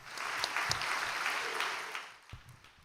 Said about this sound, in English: Why don't we give a big round of applause of congratulations to her.